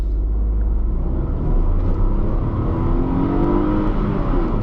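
A Tata Tiago hatchback in manual mode accelerates hard, its engine droning loud and steady with deep rumble and rising revs, close and continuous throughout with no talk.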